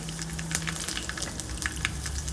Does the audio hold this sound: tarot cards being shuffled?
no